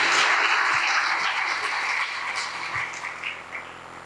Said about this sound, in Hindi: ताली बजा सकते हैं, अच्छी जगह है ये ताली बजाने के लिए।